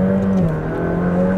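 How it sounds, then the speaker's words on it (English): A Ferrari twin-turbo V8 with a seven-speed dual-clutch gearbox holds a loud, steady high-rpm roar at full throttle, a brief continuous burst heard from close by. "And there's something about the V8, twin turbo V8 with the 7-speed dual clutch transmission."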